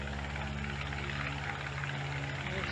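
A UC-78 Bobcat aircraft engine drones with a deep, throbbing, steady rumble, heard from inside the plane as a loud continuous hum with a pulsing low beat.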